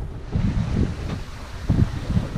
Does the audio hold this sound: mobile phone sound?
no